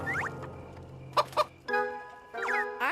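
A crate of cartoon chickens bursts into frantic clucking and squawking, with rising and falling calls near the start and end, a pair of sharp bright hits in the middle, and a sustained tonal chord underneath.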